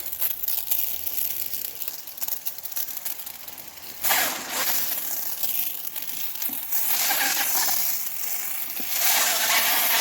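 A garden sprayer hisses loudly and steadily while spraying foaming soapy solution with liquid household soap onto tomato plants, with crackling, sputtering bursts as the foam passes the nozzle.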